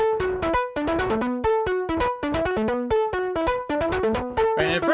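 A synth arpeggio loop in 13/16 time repeats bright, plucky notes in a fast, uneven stepping pattern, loud and close, with no voices.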